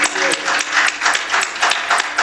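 Audience applause after an evening author talk, a fairly close, lively patter of many hands clapping in uneven bursts for the whole stretch.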